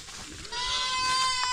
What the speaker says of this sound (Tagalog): So ang kailangan ko ngayon, barakong kambing